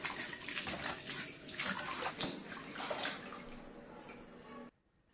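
Enoki mushrooms are rinsed under running clean water in a basin, a steady close splashing and trickling flow that stops abruptly near the end.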